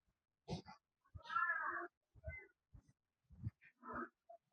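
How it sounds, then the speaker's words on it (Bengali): A cat meows several times in short, separate calls on a quiet residential lane on a relaxed Friday, its cries fairly close and clear against near silence. "একটা বিড়াল মেয়া মেয়া করতেছে।"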